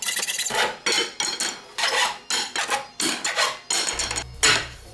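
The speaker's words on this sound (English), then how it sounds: "Hacksaw, nice and clean." A hacksaw cuts lengths of metal for a meat-drying box, giving close, rhythmic rasping strokes, about eight back-and-forth pulls at an even pace with brief pauses between them.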